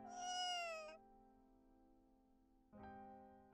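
Two cats call back and forth, a long drawn-out meow followed after a pause by a second answering meow, fairly close with no talk.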